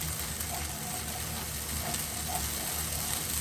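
Crushed borlotti beans with chopped herbs and black pepper cook in a pan, giving a steady low sizzle and bubbling hiss, close and continuous with faint pops.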